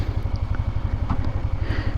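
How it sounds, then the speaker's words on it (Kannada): A motorcycle engine idles steadily after warming up, its low, even throb pulsing close by and alone, with the revs sounding settled and lower. "ಗಾಡಿದೊಂದು ಸೌಂಡ್ ಚೇಂಜ್ ಆಗುತ್ತೆ ನೋಡಿ, ಡೌನ್ ಆಗಿದೆ ಇವಾಗ"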